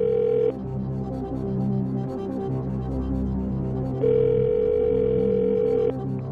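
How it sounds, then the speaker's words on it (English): Telephone dial tone as a call is placed on the game show Who Wants to Be a Millionaire, a steady electronic tone in two bursts with a pause between, over a low hum, no talking. "Let's give Mark a phone call and see if he can help us out here"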